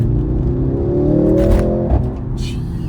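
Mercedes-Benz C63s E-Performance revs its exhaust, a loud, close engine note that climbs steadily in pitch, with a short blip near the end and a brief whoosh after.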